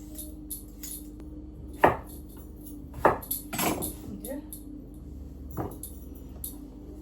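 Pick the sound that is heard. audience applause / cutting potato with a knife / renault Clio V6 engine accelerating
cutting potato with a knife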